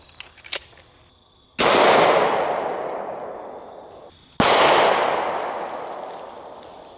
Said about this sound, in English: now let's hit it with a 45 ACP. We have a Springfield 1911 model A1